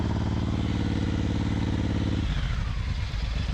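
Suzuki M109R motorcycle heard while riding, a loud, steady low engine rumble that drops in pitch partway through as the bike eases off, close and continuous with no talking.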